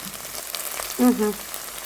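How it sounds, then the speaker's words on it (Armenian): Meat frying in a pan gives a soft, close sizzle that continues throughout, with a brief louder tonal scrape near the middle. "Միսը արդեն տապակվում է։"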